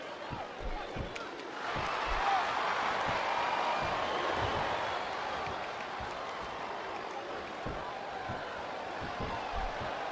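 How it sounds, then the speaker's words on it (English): A crowd chants in the WWE SmackDown vs Raw 2007 video game: a dense, continuous roar of voices with repeated dull thumps pulsing through it, swelling after a couple of seconds and holding steady. "Wow, listen to that chant, Taz."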